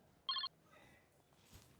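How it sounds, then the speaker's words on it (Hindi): A single short electronic telephone ring chirps once, faint and brief, in a quiet indoor room. "फोन बाजन लग रहा, देख नहीं ले किसका है।"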